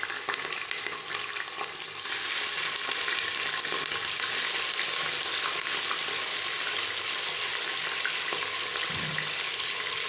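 Mutton pieces sizzle and fry steadily in a pot while being browned for biryani, a loud continuous hiss with occasional stirring scrapes, growing fuller after the first couple of seconds.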